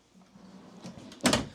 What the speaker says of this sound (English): We'll open up these 2 drawers